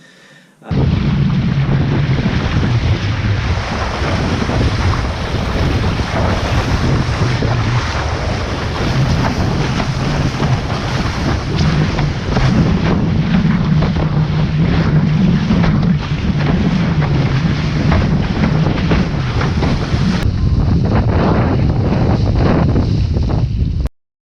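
Strong wind buffeting the microphone while windsurf foiling on open water, a loud continuous rushing roar with water noise underneath, steady for the whole stretch.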